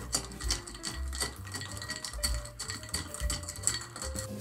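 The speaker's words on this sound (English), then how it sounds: "Fill the glass with ice and stir it to chill and dilute." A cocktail is stirred with ice in a glass, giving steady rapid clinks and rattling of ice against the glass. The sound is close, with a soft music bed underneath.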